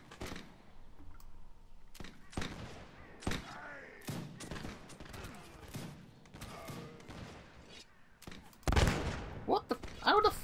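Musket and rifle fire in a Napoleonic battle in Mount & Blade: L'aigle, scattered sharp reports and small volleys at varying distance with pauses between, and a voice talking over it.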